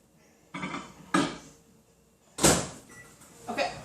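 A few clunks and thumps of a microwave door being handled and shut, with a clattery impact near the middle and a lighter knock at the end.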